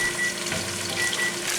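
Cilantro lime chicken fries in a skillet with a steady, close hiss and crackle that holds at an even level throughout, with no voices over it.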